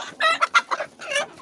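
A rooster harasses a hen in a backyard flock, giving a string of loud, close, squawking clucks in quick bursts with short gaps between calls.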